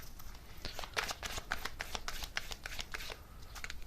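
Tarot cards shuffled by hand during a reading, with a steady run of quick riffling flicks and soft card slaps, close and fairly loud, and no voice.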